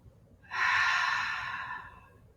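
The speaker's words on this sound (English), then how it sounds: "Take a nice inhale through the nose. Soft exhale out through the mouth." A single long, soft breath during a seated chair yoga session, a breathy airy rush that starts abruptly, holds steady and fades slowly, close and alone with no talking.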